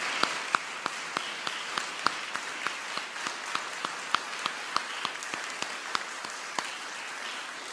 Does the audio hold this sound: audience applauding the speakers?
yes